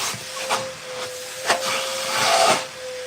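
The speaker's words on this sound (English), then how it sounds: "This is a innovative bowling products mill with vacuum jig." A steady airy hiss with a thin constant whine from the vacuum jig of a bowling ball drill mill runs throughout, broken by a few sharp knocks and rubbing sounds.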